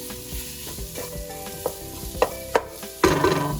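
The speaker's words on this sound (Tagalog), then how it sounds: "I'm gonna cook our onions until it's soft." Finely chopped onions sizzling and frying in a pan for Filipino sweet spaghetti, a steady close crackle with a few sharp stirring clacks toward the end, no talking.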